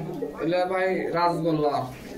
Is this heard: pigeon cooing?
yes